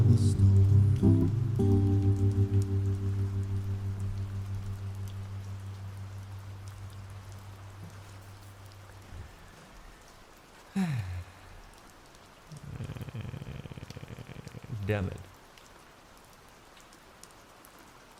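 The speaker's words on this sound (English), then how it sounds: "the mod rain command works to get it on, but not to get it off?" A rain effect switched on by a stream mod command brings in a steady rain-like wash after a loud musical opening that fades away. A few sharp bumps and a short exclamation follow near the end.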